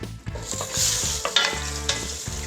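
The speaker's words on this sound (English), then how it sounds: "We're gonna add our garlic to the skillet." Garlic sizzles in a hot skillet, a close, steady frying hiss broken by a few sharp pops and the scrape of stirring, with no voices.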